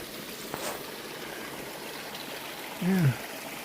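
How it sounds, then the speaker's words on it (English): A small stream trickles along a wooded stretch of the Appalachian Trail, a steady, soft wash of flowing water with a brief low vocal murmur near the end. "Well, here's a nice little water feature."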